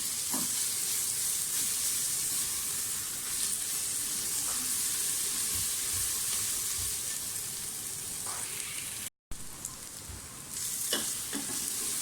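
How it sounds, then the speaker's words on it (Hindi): Garlic ginger paste fries with onions in a pot, giving a continuous hissing sizzle with a few scraping stirs, close and steady, with a brief dropout near the end. "अब आप इसमें लहसुन अदरक का जो हमने पेस्ट लिया है वो डाल दें। अच्छी तरह से फ्राई होने दें।"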